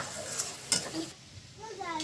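Onions fry in a pan for beresta, browning for a beef halim, giving a soft sizzle broken by a couple of sharp spoon clatters and stirring scrapes, close by.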